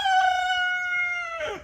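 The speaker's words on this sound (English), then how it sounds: "I wasn't ready for the rooster." A rooster crows once nearby in an outdoor garden setting, a loud, sustained call that holds steady and then drops away at the end.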